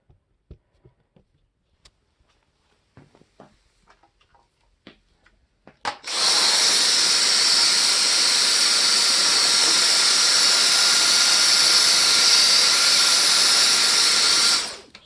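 A 1994 Dirt Devil Classic vacuum cleaner is switched on and runs on high, a loud steady whining roar that follows several faint clicks and handling taps and continues for about nine seconds.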